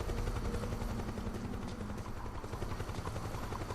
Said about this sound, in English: And the helicopter needs to shut the fuck up.